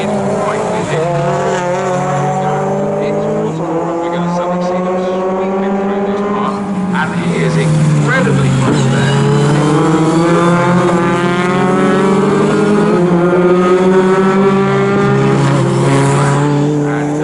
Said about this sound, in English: Joshua Law 91 has just dropped away in that green and white car a little bit